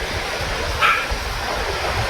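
River water rushes steadily past a river crossing on Dartmoor, a continuous close wash of flowing water with one brief brighter splash partway through.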